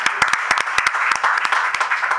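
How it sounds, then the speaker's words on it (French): A small audience at a French-language public gathering claps. The individual hand claps are sharp and close, forming a brisk, uneven round that lasts about two seconds. "Applaudissez très fort"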